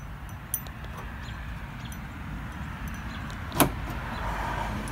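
A car unlocks by key fob with a single sharp mechanical click or clunk late in the quiet stretch, after a fainter tap earlier, over low steady background rumble.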